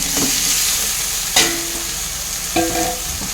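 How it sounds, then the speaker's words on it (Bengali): Eggs fry in a pan of cooked spice masala, giving a steady close sizzle broken by a few sharp clinks from the spatula, with no talk. "এবার এর মধ্যে আমি দিয়ে দেব, মশলাটার মধ্যে আমি ডিমগুলো দিয়ে দেব।"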